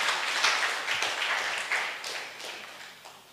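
Clapping from an audience at a book launch rises and tapers across a few seconds, a moderate group applause fading toward the end.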